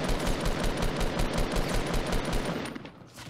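Rapid automatic gunfire in the video game Fortnite, dense bursts of shots rattling continuously at close range before tapering off near the end.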